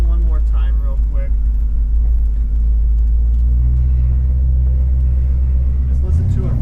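A 1970 Chevy Suburban's engine rumbles steadily and loud from inside the cab while driving, a deep continuous low drone with a shift in pitch near the end.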